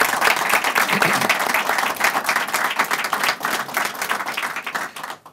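An audience claps at an event where a state governor announces a new pipe-manufacturing plant in Tunica County, Mississippi. The applause is steady and fairly loud for about five seconds, then tapers off at the end.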